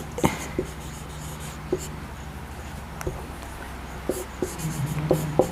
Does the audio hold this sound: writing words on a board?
yes